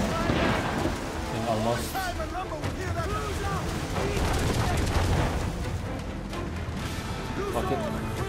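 Ship cannons boom in a naval battle in Assassin's Creed IV: Black Flag, heavy blasts and rumbling over the sea, mixed with someone talking throughout.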